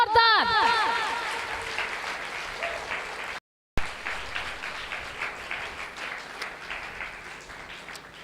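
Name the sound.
audience clapping loudly for the Lord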